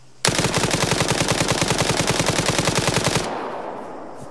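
Automatic gunfire in the Arma 3 video game, one long rapid burst of about three seconds, loud and close, ending in a fading echo.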